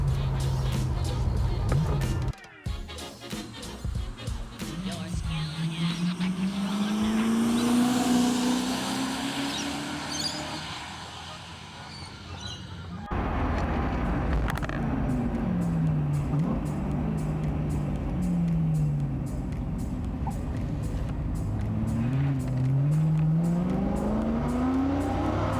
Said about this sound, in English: safely able to accelerate out of that with my foot flat to the floor